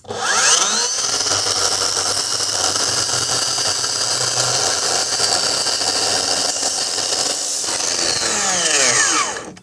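A circular saw fitted with a deck-building blade runs up and cuts through deck wood at a 45-degree angle, a loud, steady whine held for several seconds with a spin-up at the start and a wind-down at the end.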